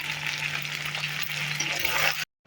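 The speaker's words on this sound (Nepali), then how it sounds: "म भुट्दाखेरिको साउन्ड पनि सुनाइदिन्छु ल" Local chicken meat frying in a pan to dry off its water: a steady, loud, close sizzle with crackling that cuts off abruptly near the end, with a faint low hum beneath.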